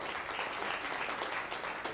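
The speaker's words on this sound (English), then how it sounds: "Let's give her a round of applause." An audience claps and applauds continuously for the whole two seconds, a soft, even patter heard from some distance.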